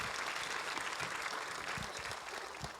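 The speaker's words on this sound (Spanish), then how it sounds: "Give a big applause." A church congregation gives a steady round of dense applause that fills the space evenly and fades a little toward the end.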